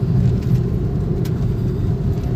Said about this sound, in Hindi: अभी जैसे मैं दबाऊंगा देखना एक्सीलरेटर तो कैसा गियर कम होंगे, सीधा सेकंड पे आ गई भाई गाड़ी